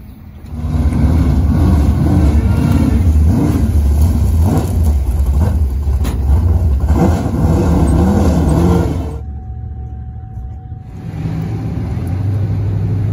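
A pure stock race car at Hagerstown Speedway idles and revs loudly up close, its engine roar holding steady before dropping off briefly, then rumbling back, with no voices.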